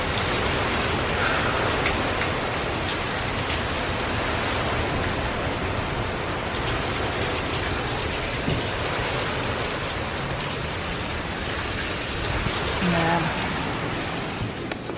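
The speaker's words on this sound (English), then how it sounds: "It's getting really rainy and really, really windy now." Steady heavy rain from Hurricane Irma in Kissimmee, Florida pours down with a dense hiss, mixed with gusty wind noise, continuous and loud throughout.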